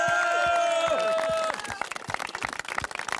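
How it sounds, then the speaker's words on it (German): An outdoor audience at the Großglockner opening of a live Austrian TV show breaks into dense, steady applause and clapping, rising over fading music and carrying on loudly. "Geben Sie sich bitte selber mal einen Applaus"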